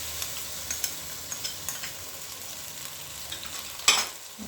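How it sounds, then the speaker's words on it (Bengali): Spices with ginger-garlic paste, onion and beef being stirred in a frying pan, a soft steady sizzle with light scraping taps and one louder clatter near the end, no talking. "মশলাটাকে নাড়াচাড়া করে নেব"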